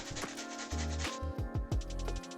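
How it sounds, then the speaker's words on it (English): Crinkly rustling and crackling from a cat batting at a crinkly catnip toy, close and continuous, with bursts of scratchy rubbing. "if you heard all that crinkling noise in the background"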